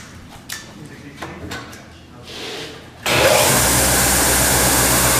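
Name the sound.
belt grinder running with a custom grinding belt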